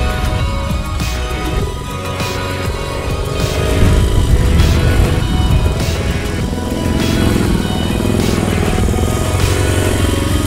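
Three-wheeler car engine running on only one cylinder after 400 miles, grinding up a mountain track on a far-north road trip; a steady, rough motor drone that swells louder midway and holds.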